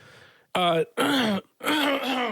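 Three quick, harsh throat-clearing coughs burst out close to the mic, separated by brief pauses.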